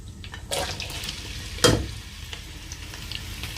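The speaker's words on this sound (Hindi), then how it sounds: "अभी मैं इसमें प्याज डालने वाला हूँ। ऑयल तकरीबन गर्म हो चुका है।" Onions frying in hot oil for chicken karahi, a close, steady sizzle with a sharp burst as something is stirred or dropped into the pan, and no talking.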